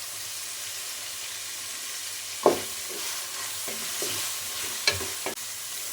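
Tomatoes fry in a pan for chicken biryani with a constant sizzle, and a few sharp knocks and scrapes from stirring come through near the middle and end.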